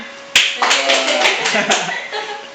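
A school audience at a student sharing session at SMK Ketintang Surabaya claps, opening with a few sharp, distinct hand claps that swell into brief group applause. A voice can be heard faintly underneath.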